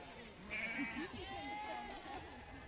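Sheep bleat close by, a couple of wavering calls, with a person's voice talking alongside.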